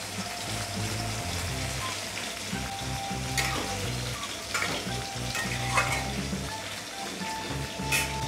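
Prawn curry gravy with cauliflower hits fried masala in a pan and sizzles hard, a dense, close frying hiss with stirring scrapes and a few sharper spatters throughout.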